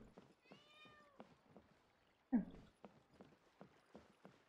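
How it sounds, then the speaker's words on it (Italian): A cat meows in the Genshin Impact video game, a short rising-and-falling mew near the start, followed by faint clopping and mechanical ticks and a brief louder knock, all fairly quiet. "Paimon, pensa che un gatto stia miagolando, deve essere vicino"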